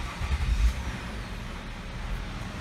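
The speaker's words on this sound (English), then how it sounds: "Now we can go ahead and start the vehicle up." A Nissan Murano with a rough-running fault starts up, a brief low cranking burst settling into a steady close engine idle.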